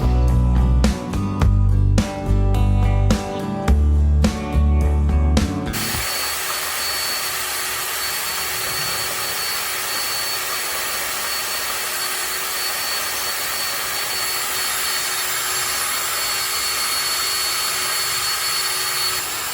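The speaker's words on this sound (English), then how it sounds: "I've just gone ahead and quickly finished up drilling out my last 2 holes" An electric drill bores holes during assembly of a 28cc gas-powered scooter conversion, a steady loud whirring drone running on for many seconds after a brief burst of rhythmic music.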